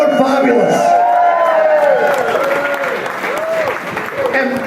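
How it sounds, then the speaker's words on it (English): An indoor audience at a book launch applauding a band, a dense wash of clapping that fades slightly over a few seconds, with voices calling out over it. "Could have a big round of applause for that first band that were on"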